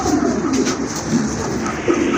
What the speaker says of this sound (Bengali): ডাকতেছে ডান পাশে, এটা হচ্ছে নর কবুতর